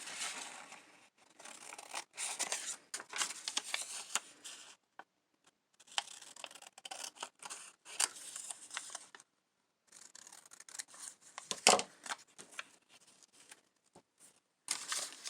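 Sharp bursts of scissors snipping through paper for a junk journal, close and intermittent, with short pauses between cuts and faint crinkling of paper.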